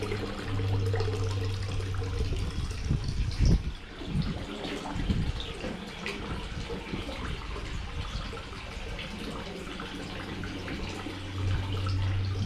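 A small stream at the Andersonville Civil War POW site flows with a steady, broad rushing wash, heard close up. A brief thump breaks in early on, and no one speaks.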